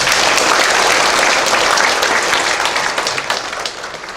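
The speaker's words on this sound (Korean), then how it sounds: "모든 수고하신 분들께 감사의 박수" A church congregation at an ordination thanksgiving service applauds in thanks, producing a loud, dense wash of clapping that holds steady, then gradually tapers.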